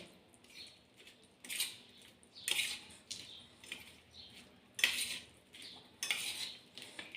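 A spoon stirs tamarind water into a bowl of green pea and potato matar chaat, giving a series of soft clinks and scrapes against the bowl that come in irregular bursts, close by and fairly quiet.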